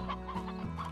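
Briar hens in the Slime Rancher game cluck in short, close bursts, several soft chicken calls in under a second.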